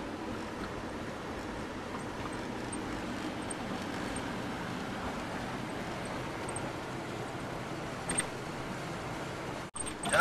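A car coasts downhill on a high mountain road in Utah or Colorado while the driver taps the brakes, giving a steady, fairly quiet road and engine rumble with a brief knock near the end.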